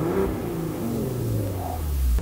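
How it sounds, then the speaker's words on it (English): Ferrari-developed V6 bi-turbo engine of a 2019 Maserati Levante S Q4 GranSport revving: a steady, loud, rich engine drone with a rising tone near the end, close and without voices. "the rev shots of this Ferrari developed V6 bi-turbo engine"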